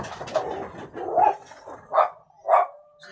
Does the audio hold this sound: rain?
no